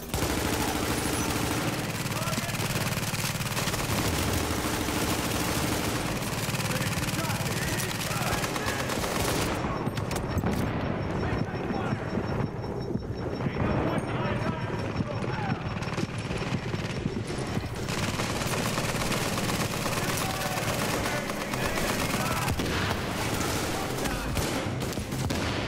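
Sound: gunfire shooting a turret in video game Tom Clancy's The Division

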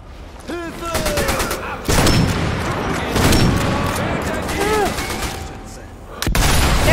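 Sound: gunfire in the video game Sniper Elite V2 Remastered

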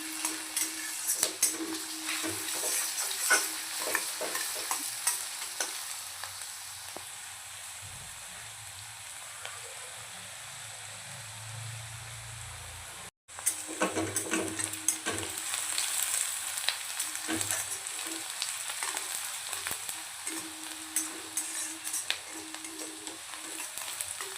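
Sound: frying onion until golden

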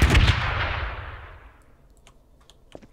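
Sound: explosion in Garry's Mod video game

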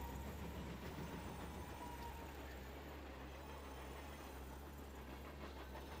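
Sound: train in video game Vandal Hearts

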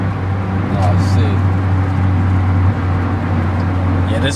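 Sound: street traffic, cars driving past

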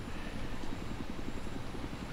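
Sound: helicopter flying in Battlefield 3 video game

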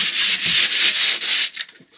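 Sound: sanding in a camper van during overhead storage tear down

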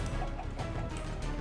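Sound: chicken clucking in video game Minecraft

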